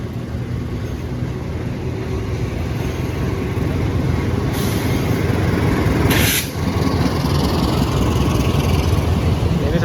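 A Cikuray passenger train made up of premium economy carriages rolls past with a loud, steady rumble that fills the whole stretch, swelling briefly near the middle before settling back to a constant roar.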